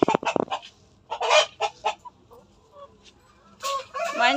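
Fighting roosters for sale at a coop in Nizampatnam, with close, loud bursts of clucking and a crow, broken by short pauses and ending in a longer, rising crow.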